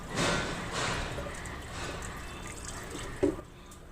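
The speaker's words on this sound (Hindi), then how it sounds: "अब इसे ना ठंडे पानी से अच्छे से वॉश कर लेना है" Cold water runs and splashes over fresh chhena cheese in a strainer, a steady soft wash of running water and dripping with a small squishy splash near the end.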